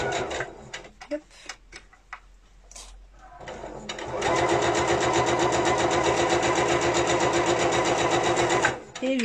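A domestic sewing machine stitches a seam on a fabric mask pouch, running in a steady, continuous whir for about five seconds after some handling clicks and brief talk.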